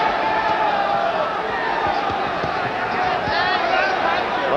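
Boxing crowd roars steadily throughout, backing Bazooka Limon against Cornelius Boza Edwards after a low blow; a dense, loud wall of cheering and shouting with commentary underneath.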